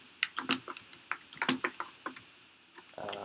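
Fingers tap out a Minecraft command on a computer keyboard, a close run of uneven crisp key clicks with brief pauses, ending in a short rustle.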